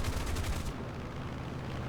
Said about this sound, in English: I'm taking a lot of shots because I'm hoping he'll get scared and break off